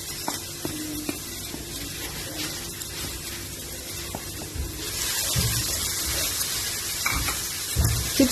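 Garlic fries in a pot with golden brown onions, giving a continuous sizzle with occasional stirring scrapes and a louder hiss near the end, no talking.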